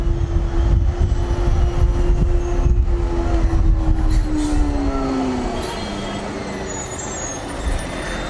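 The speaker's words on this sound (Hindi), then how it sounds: "ऊपर से दिल्ली का ट्रैफिक" Heavy Delhi road traffic around a Revolt RV400 electric motorcycle in motion, with a steady loud rumble of engines, a sustained horn-like tone and passing vehicles, fading slightly toward the end.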